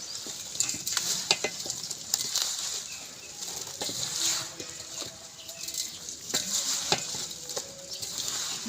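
Mango pickle pieces are stirred with spices and oil in a bowl, giving a steady wet, sticky mixing sound broken by soft clicks and taps of the spoon. No one speaks.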